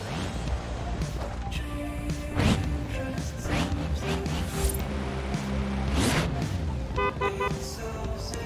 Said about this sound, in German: Die Hupe.